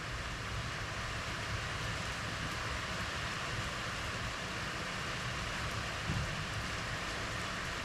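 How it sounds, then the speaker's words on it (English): Heavy monsoon rain in May falls as a dense, steady wash of noise throughout, with no pauses and no voices. "It's a real monsoon"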